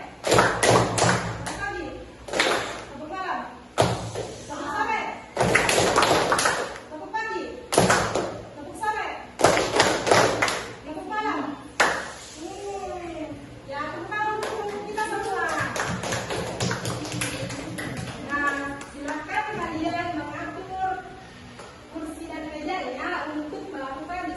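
An elementary school class at SDIT Wahdah Islamiyah Parepare plays a clapping rhythm game, with bursts of sharp group claps in shifting patterns alternating with children and a teacher chanting aloud.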